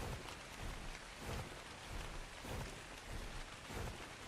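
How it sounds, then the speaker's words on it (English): Steady rain hisses down in the Ark Ragnarok game world, a faint, even wash of falling drops with soft swells in intensity and no voices. "I gotta see if there's a way of clearing the rain, because I really am getting sick of it on here"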